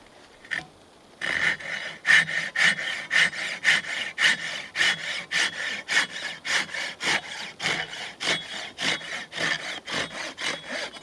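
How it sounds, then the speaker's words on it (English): Steady rhythmic hand sawing through wood, roughly two strokes per second, each rasping stroke close and distinct after a brief pause at the start. "You can tell when it's sawing on the back stroke"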